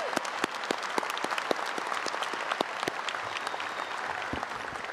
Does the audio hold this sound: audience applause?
yes